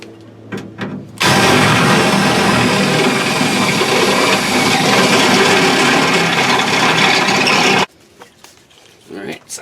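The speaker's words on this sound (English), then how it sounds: "I'm going to step up to this step bit and try to get a nice radius on both of these corners" Step drill bit grinding into a steel Chevrolet Silverado truck frame to round the corners of a C-notch. A loud, harsh, continuous drilling roar lasts about six seconds, and brief quieter handling noises come before and after it.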